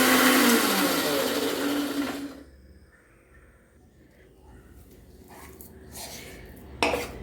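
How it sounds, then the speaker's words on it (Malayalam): A kitchen mixer grinder whirs loudly, grinding grated coconut with water into a paste, then cuts out after about two seconds, followed by quiet clinks and knocks of the jar and utensils. "അതിൽ 1/2 ഗ്ലാസ് വെള്ളം ചേർത്ത് മിക്സിയിൽ നല്ലതുപോലെ അരയ്ക്കണം"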